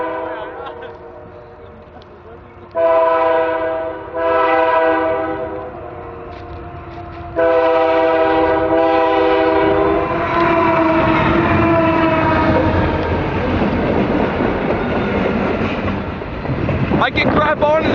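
A train rolls slowly past close by, its horn sounding in long harmonic blasts with brief gaps, then a sustained rumble and screech of wagons, with a voice briefly heard.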